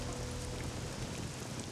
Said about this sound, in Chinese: 都下雨了。